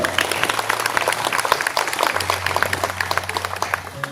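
An audience at an International Yoga Day event claps together in dense, steady applause that carries evenly throughout, with a low hum underneath and no speech over it.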